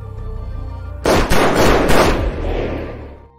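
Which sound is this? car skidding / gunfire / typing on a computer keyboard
gunfire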